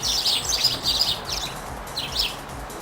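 Several birds chirp and tweet in quick bursts, fairly close, with short pauses between calls over a faint background hiss.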